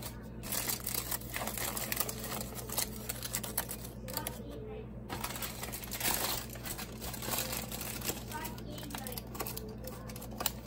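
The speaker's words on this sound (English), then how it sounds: "now I'm gonna put the foil back" Aluminium foil crinkles and rustles as it is folded back over a potato, a continuous crackling close to the microphone, with a voice speaking over part of it.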